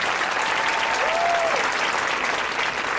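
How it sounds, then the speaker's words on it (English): Steady crowd applause for graduates at a 2022 high school graduation ceremony, dense and even throughout without pause, with a faint whistle-like tone rising briefly in the middle. "Please give them a round of applause"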